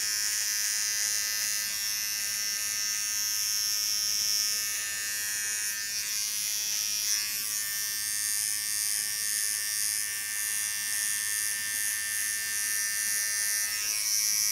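An electric hair clipper runs steadily while it cuts short hair into round shapes, giving a close, constant high buzz that wavers slightly for the whole stretch with no talking.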